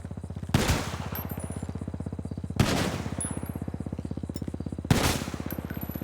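Gunfire in GTA V: a steady rapid stream of automatic shots under three louder, sharper blasts spaced a couple of seconds apart, with no talk.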